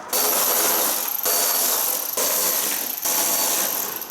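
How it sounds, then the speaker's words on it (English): A ratchet wrench works 10mm headlight bolts loose on a 2018-2020 Ford F150, giving three close bursts of rapid clicking, each about a second long with short pauses between, and no voices. "there's going to be 3 10mm bolts over here, and there's going to be 2 bolts at the front. We're going to go ahead and remove those now."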